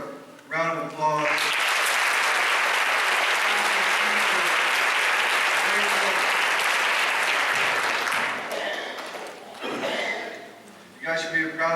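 Applause at an adult education graduation ceremony swells after brief speech into loud, sustained clapping from the crowd, then fades in waves as a speaker's voice returns near the end.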